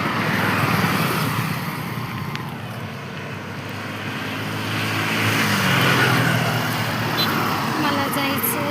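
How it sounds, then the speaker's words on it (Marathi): Large vehicles rumble past on a nearby road, a steady low roar that swells and fades across the stretch, with wind buffeting the microphone. "खूप मोठ्या मोठ्या गाड्या आहेत तिकडं."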